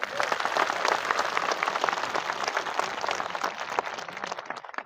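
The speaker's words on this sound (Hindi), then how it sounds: "मैं आप सभी के लिए जोरदार ताली बजाना चाहती हूँ" An audience at a community gathering of the Oraon people breaks into loud, dense applause, many hands clapping continuously for about five seconds with no one speaking over it.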